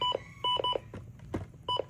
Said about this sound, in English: Button beeps, obviously.